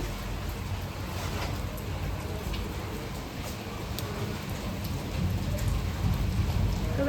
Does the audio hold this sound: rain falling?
yes